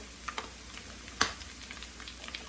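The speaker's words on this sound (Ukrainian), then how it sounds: "вже салко піджарилося, додаємо цибульку" Pork fat (salo) frying in a pan with onion added, a soft, faint sizzle with scattered small pops and crackles, one louder spit near the middle.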